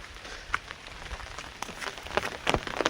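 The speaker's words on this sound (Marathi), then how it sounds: "कारण पाऊस देखील आलेला आहे." Rain falls on a village hillside in steady, soft, fairly faint hiss, with occasional closer drops ticking and pattering more often toward the end.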